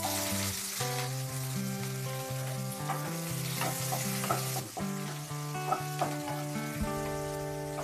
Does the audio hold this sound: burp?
no